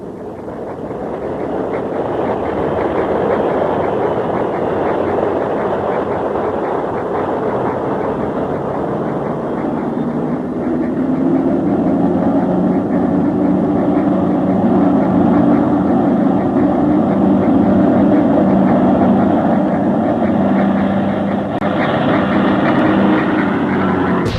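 A WWII bomber's aircraft engines build up for takeoff into a loud, sustained droning roar that swells slowly and holds steady for over twenty seconds with no voices.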